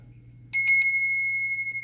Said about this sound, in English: And we have three temple bells left.